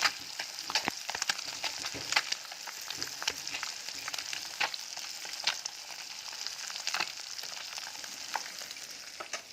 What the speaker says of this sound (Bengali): এই থেকে পুঁটি মাছ ভাজা হচ্ছে